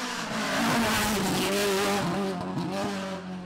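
A historic BMW rally car roars through a valley stage, its engine note climbing and falling through gear changes with rising revs and a brief tyre squeal, loud and close before fading slightly.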